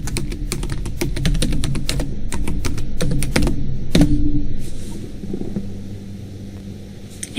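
Rapid keystrokes on a computer keyboard while a password is entered, a close burst of irregular clicks over several seconds with a single sharper tap near the middle, then the typing stops and a low background hum remains.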